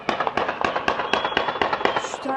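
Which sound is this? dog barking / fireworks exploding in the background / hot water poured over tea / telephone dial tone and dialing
fireworks exploding in the background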